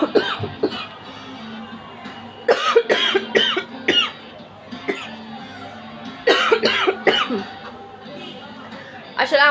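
Repeated coughing from a person with a lingering cold, several bursts of harsh coughs spaced across the stretch with a short pause between groups, close and loud over quiet room background.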